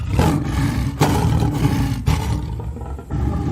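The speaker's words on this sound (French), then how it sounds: "Quand il fut devenu un lion grand et fort, dont le rugissement retentissait à travers toute la savane" A big strong lion roars across the savanna, loud pulsing roars in about three heavy bursts, rough and rumbling, with nothing else heard.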